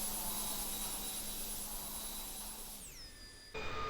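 A simulated jet airliner in the X-Plane 10 flight simulator roars with a steady high whine during takeoff, its engine tones sliding down sharply near the end before cutting to a different tone.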